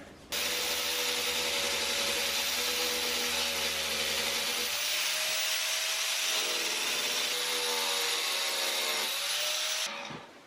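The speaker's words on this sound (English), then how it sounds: "I'm going to use the angle grinder and just peel off this outer edge" An angle grinder cuts the outer edge off a worn PVC check valve from a ram pump, a loud continuous high whine with a gritty grinding roar that dips briefly as the cut load changes, then stops abruptly.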